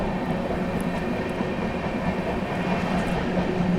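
The Kaifiyaat SF Express rushes through Hathras Junction in fog, a steady loud rumble of wheels and carriages with faint rhythmic clatter, heard from on board.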